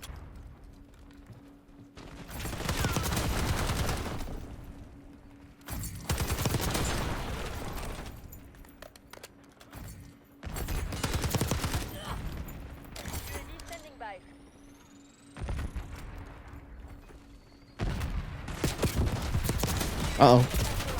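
Model L assault rifle gunfire in the Black Ops 6 shooter, sounding as several loud sustained bursts of automatic fire with short pauses between them, mixed with in-game effects and a steady background hum.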